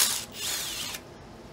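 A hand ratchet clicks steadily as it backs bolts out of the thermostat housing on a Hyundai Accent engine during cylinder head removal, the close, quick pawl clicks running for about a second before stopping.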